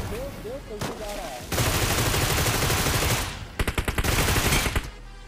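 Bursts of automatic gunfire and single shots in a battle-royale shooter game, with a rapid string of loud shots near the end and a faint voice briefly heard early on.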